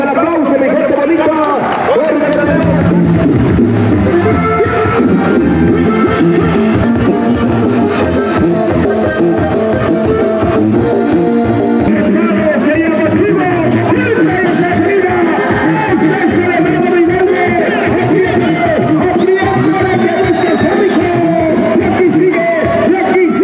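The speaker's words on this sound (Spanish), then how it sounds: "les brindamos el aplauso, mi gente bonita" A rodeo crowd roaring and cheering, a loud, continuous mass of voices with shouts and whoops rising over the din, and a voice carrying over a loudspeaker.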